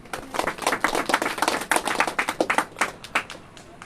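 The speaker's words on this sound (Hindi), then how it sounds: "तालियां बजाए, आप लोग आगे हैं" Clapping from the audience at a devotional talk on Srimati Radharani, with irregular claps close by that come in uneven bursts and fade toward the end.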